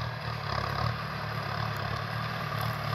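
Kubota M6040SU 60-horsepower farm tractor diesel engine idling nearby, a steady low rumble with even pulsing throughout the short stretch and no speech.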